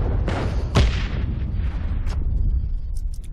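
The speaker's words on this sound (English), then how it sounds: "I am going to throw a frag out there." A frag grenade goes off in the online shooter Heroes & Generals, a sharp close blast with a rumbling tail, followed by scattered smaller pops and game ambience.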